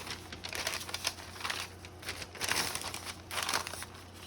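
Scissors cut across paper for a junk journal, producing crisp crinkling snips in irregular bursts, close and fairly quiet.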